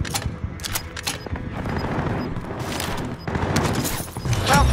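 Rapid bursts of automatic gunfire and scattered shots in a battle-royale style shooter with a bounty-target objective, dense and continuous with sharp cracks throughout and a louder boom near the end.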